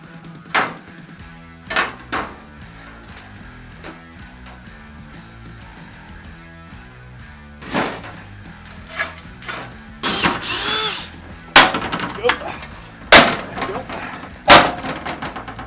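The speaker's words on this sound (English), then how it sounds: "So I'm gonna drill a bunch of holes in this panel so that this can still breathe." Short bursts of a power drill drilling holes in a panel whir on and off, separated by pauses, louder and denser toward the end with clattering knocks.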